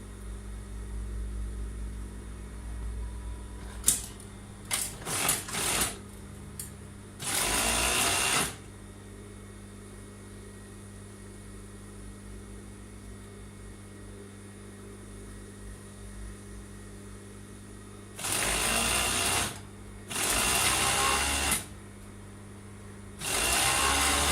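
A sewing machine stitches the side seam of a skirt in short bursts, running for about a second or two at a time with quiet pauses between, close and steady, with no talking.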